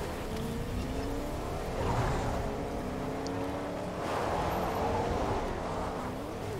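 A car driving in the video game Fortnite, its engine droning steadily throughout with rising revs and shifting pitch, loud and close, with no talk over it.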